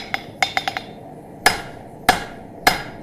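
Hammer blows drawing out hot metal over the horn of an anvil during forging: a quick run of five ringing strikes followed by three heavier, evenly spaced blows, each with a bright metallic clink and short ring, close and clear.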